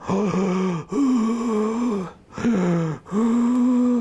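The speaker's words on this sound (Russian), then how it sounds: "в обыкновенной жизни вы дышите так" A person demonstrates a breathing technique with long, voiced, groaning breaths in several drawn-out phases separated by short pauses, close and loud.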